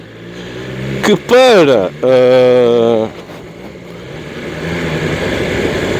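A 2023 BMW S1000XR sport-touring motorcycle in road mode revs sharply twice, a short rising blip then a longer held rev, loud and close, before settling to a steady ride with someone talking over it.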